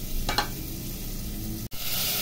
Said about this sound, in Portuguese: tá fritando. Como coloquei o azeite,